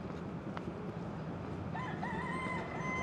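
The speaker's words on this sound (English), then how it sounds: "don't be surprised if you hear a bunch of chickens in this video" A rooster crows in the background, its call rising over a steady wash of outdoor street noise and traffic rumble in Ybor City, Tampa.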